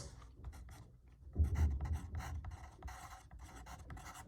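A pen or pencil scratches across paper as a math answer is written out, a run of short, close, dry strokes and rasps with no talking.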